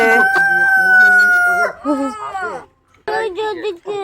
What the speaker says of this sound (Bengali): মুরগি বিক্রি হচ্ছে